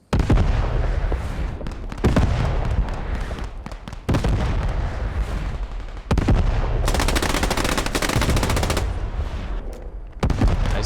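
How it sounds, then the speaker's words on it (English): Sustained machine gun fire in an online team shooter match, loud bursts of rapid automatic shots rattling almost continuously with brief gaps, mixed with other gunfire and battle noise. "Nice work with the MG there."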